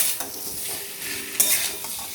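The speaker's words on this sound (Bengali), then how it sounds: "আলুটাকে নেড়ে নেব" Boiled potatoes fry with spices over a high flame while a utensil stirs them in the pan. A close crackling sizzle runs throughout, broken by short scraping strokes and one sharper clink, with no voices.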